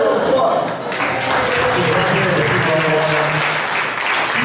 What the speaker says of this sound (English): So for that, a big old applause.